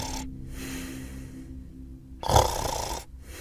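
Exaggerated snoring in a comedy spoof, two loud rasping snore breaths separated by a pause, close and with no talk.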